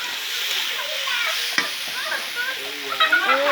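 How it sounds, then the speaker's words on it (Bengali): A curry frying in a pan while it is stirred, a close, steady sizzle with soft scraping strokes and a few small clinks, no speech over it. "একবার নাড়িয়ে নিল, একটু কষে নিচ্ছে।"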